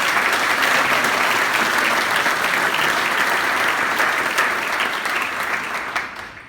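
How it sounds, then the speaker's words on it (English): Sustained audience applause at a community event, dense clapping from a large crowd holding steady for several seconds before tapering off at the end. "Let's give them a big round of applause"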